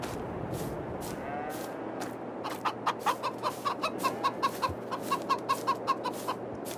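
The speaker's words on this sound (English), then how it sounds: "Chickens." Chickens clucking in the farming video game Farming Simulator 22, a steady run of short repeated clucks over a constant ambient hum, with no talking.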